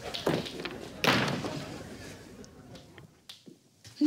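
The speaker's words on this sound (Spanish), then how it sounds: "Gonzalo, cierra la puerta" A door shuts with a solid thud, followed by a few smaller knocks and shuffles in a quiet indoor room.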